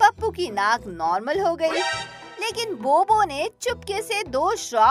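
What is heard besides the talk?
No everyday noises stand out.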